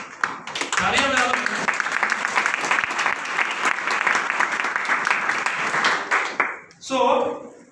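Audience applause at a network marketing seminar, loud sustained clapping from a crowd with a voice briefly heard at the start and a short spoken phrase near the end.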